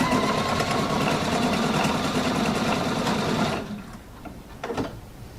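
A Pfaff Quilt Expression 720 sewing machine stitches ribbon onto fabric with a steady, loud, close mechanical whir that runs for several seconds and then stops, leaving a few faint handling clicks.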